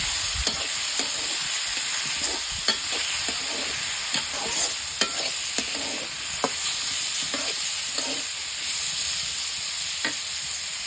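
Chopped onion and potato frying in hot oil, a steady bright sizzle under repeated scraping stirs of a utensil against the pan, close and continuous with no talking.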